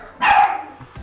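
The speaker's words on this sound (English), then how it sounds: "Sorry for the dogs." Dogs bark in the city-building game Cities: Skylines: one sharp, close bark rings out on its own, and a second begins just as the clip ends.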